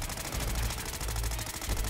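Sustained rapid automatic fire from an assault LMG in the Fallout 4 video game, a dense unbroken rattle of shots, loud and close with no speech.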